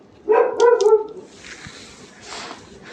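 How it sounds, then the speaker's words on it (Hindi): A dog gives a short burst of several loud, close barks in quick succession, then falls quiet, leaving faint background noise with no talking. "ये बेवजह ही भौंकता है।"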